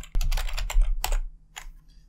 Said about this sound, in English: I'm reading from a screen and then trying to type it down with the same caps and grammar and all that.